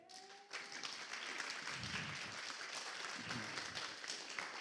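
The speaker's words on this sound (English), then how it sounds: "So, round of applause for Athens." An audience at a vegan activism talk in Athens breaks into steady applause, a dense, even patter of clapping that fills the room for several seconds after a brief moment of quiet.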